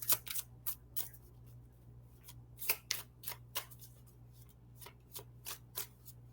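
Tarot cards being shuffled by hand, a series of sharp riffling bursts in an irregular rhythm, close and crisp over a low steady hum, with no talking.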